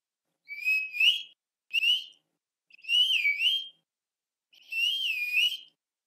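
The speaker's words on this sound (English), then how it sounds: "Each dog has a different sound for the whistle." A shepherd's whistle commands to a sheepdog: four shrill calls with rising and falling pitch, separated by pauses, loud and clear against silence.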